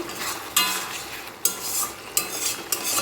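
Spoon stirring mixed vegetable curry with garam masala in a pan, a steady scraping hiss broken by four sharp clatters roughly every second, close and moderately loud with no talk.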